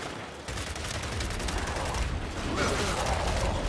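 Sustained gunfire in the Gears 5 campaign, a dense, continuous barrage of automatic shots that stays loud and close for the whole stretch, with no talk over it.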